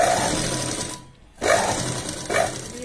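Sewing machine stitching a gown made from a saree, running in steady whirring bursts with a short pause between them, close and fairly loud, with no speech.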